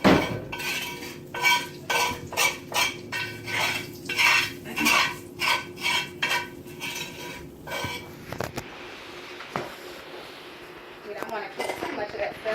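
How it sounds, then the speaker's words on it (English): A utensil scrapes and clinks rhythmically against a cast iron pan as it is cleaned out, a series of sharp metallic strokes under talk, then quieter scraping noise. "Let me clean some of this stuff out of this cast iron"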